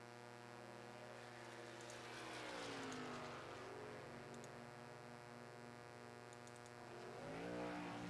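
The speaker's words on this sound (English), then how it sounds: "There's the 3 truck of Hal Amy coming out on the track now." Racing truck engine in a truck-series racing video game, a steady droning engine tone that rises and falls in pitch, swelling around the middle and again near the end, with no talk.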